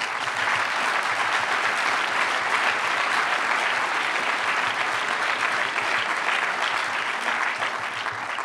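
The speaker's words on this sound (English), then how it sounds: "thank you for applauding his words." Dense, sustained audience applause at a memorial law lecture, loud and even from start to finish, with no talking over it.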